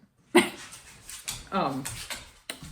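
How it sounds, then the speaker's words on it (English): A dog plays with a stuffed avocado toy indoors, giving a few short, near squeaky or whimpering yelps and rustles in bursts over roughly two seconds, with a brief sharp onset and quieter noises between. "My dog just found her stuffed avocado."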